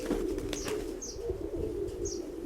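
A pigeon coos in a low, steady murmur while a few short, bright chirps sound overhead, with soft rustling suggesting flapping wings nearby.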